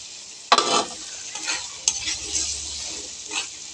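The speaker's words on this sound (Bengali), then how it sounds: "এখন আমি আলু কুচি দিলাম" Chopped potatoes tipped into a hot pan for a fish and potato curry hit the oil with a sharp burst of sizzling, followed by steady frying and stirring scrapes close by.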